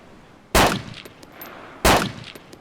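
Two loud, sharp sniper rifle shots from the MSR in the video game DayZ, spaced about a second apart, each with a ringing tail fading out, with no talking.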